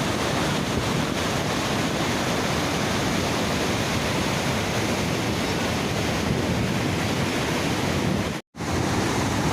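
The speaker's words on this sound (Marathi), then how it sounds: "इथून हे असं सगळं पाणी जातं आहे" Water from the open gates of Khadakwasla dam near Pune, released after heavy July rains, rushes and roars in a loud, steady, unbroken wash that cuts out briefly near the end.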